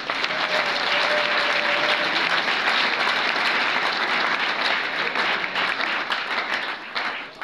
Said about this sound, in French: Applaudissez encore pour lui.